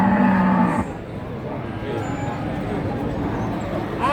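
Cattle moo at a busy livestock market in Jatirogo, Java, where Javanese crossbred cows are sold; one loud low moo opens, then steady crowd noise and chatter fill the rest with voices talking throughout.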